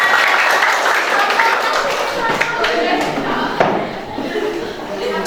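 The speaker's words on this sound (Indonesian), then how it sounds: "Oke, tepuk tangan." A small group, likely a classroom, claps along with scattered sharp individual slaps, the clapping busy at first and thinning out toward the end while voices murmur underneath.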